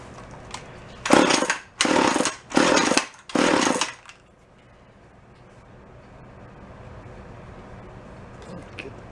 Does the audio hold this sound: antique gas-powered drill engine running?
yes